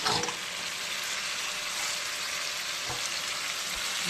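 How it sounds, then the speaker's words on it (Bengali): Potato and fish pieces fry steadily in hot oil, giving a continuous loud, close sizzle with a faint scrape partway through. "এবার আমি আলু আর মাছ দিয়ে কষাবো ভালো করে"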